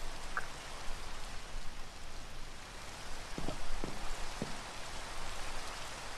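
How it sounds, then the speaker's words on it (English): Steady rain falls in an outdoor scene of a FNAF horror video game, a dense even hiss throughout with a few faint low thuds and no talking. "Oh my God, it's raining blood. Oh no, man, that's water still"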